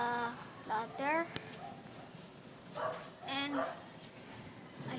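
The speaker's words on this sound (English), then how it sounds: "I saw my dog fighting here." Dogs barking and yelping in a scuffle, with sharp pitch-bending yips and whimpers in a few bursts, fairly distant and faint, while someone talks over them.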